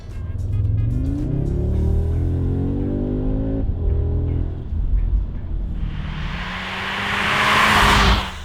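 Audi S3 8Y (2021) with a dual-clutch gearbox cruising in Efficiency mode, a steady low engine and road drone inside the cabin, swelling into louder broadband road and wind rush toward the end.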